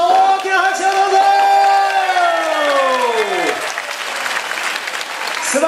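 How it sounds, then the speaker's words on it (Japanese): A crowd at a street demo run in Yokohama Motomachi applauds loudly for racing driver Sebastien Buemi, a dense, sustained clapping throughout with a long sliding engine or tonal sweep layered over it. "ブエミ選手を応援する人、大きな拍手をどうぞ。"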